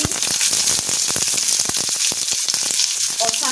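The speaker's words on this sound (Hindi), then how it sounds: "अब मैं इसमें ये प्याज डाल दूंगी" Onion fries in hot oil after the garlic for malai kofta, a loud, dense crackling sizzle with rapid popping and spatter close up, unbroken and without talk.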